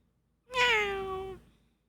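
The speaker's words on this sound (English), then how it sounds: "So the game is set name Stray Cats in Cozy Town." A single clear, drawn-out meow from a cat in the video game Stray Cats in Cozy Town, loud and close against a quiet background.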